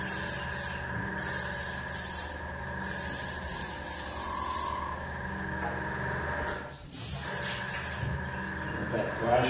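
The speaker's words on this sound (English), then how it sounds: "really hard to see silver when you're spraying it where it's any primer." Silver paint sprayed over primer on a two-tone paint job, a steady hissing spray gun in repeated passes, close and continuous with brief pauses.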